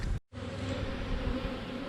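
Steady, dense buzzing of many honeybees close by during a hive check, with a brief dropout near the start and no talking.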